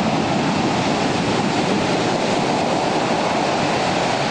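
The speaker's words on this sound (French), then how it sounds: "Normal, c'est la vague de fond qui arrache tout." Large swell waves crash along the Cannes seafront, giving a dense, continuous roar of surf that stays loud and steady throughout, with no voices over it.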